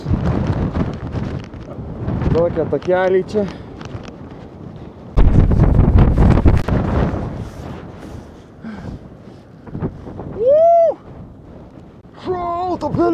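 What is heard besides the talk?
strong wind on a mountain summit in Madeira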